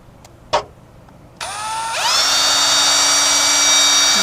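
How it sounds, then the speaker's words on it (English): A power drill runs up to speed and bores steadily through an RV side frame bracket, a rising whine that settles into a sustained high drone after a couple of faint knocks. "All right, so drilled a hole through there."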